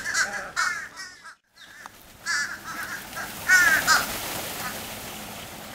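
Several crows caw repeatedly in harsh bursts outdoors, with a steady background hiss and some other bird sounds between calls.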